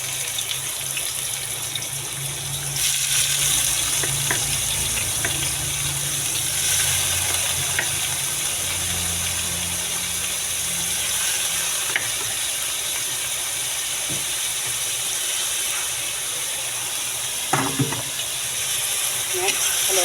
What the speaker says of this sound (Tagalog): Nilagay na natin yung ating ampalaya.